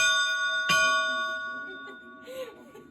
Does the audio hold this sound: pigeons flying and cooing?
no